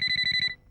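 A phone ringtone chimes in a quick pulsing pattern for about half a second and then cuts off, loud and close with no talk over it.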